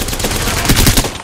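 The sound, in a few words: gunfire in the video game Apex Legends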